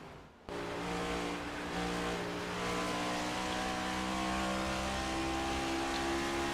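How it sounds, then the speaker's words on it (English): Video game race car engines roar in a continuous, loud drone as cars circle the Dover track, some bottoming out, with no voices. "Just listening to some of these cars bottom out as they go around this track."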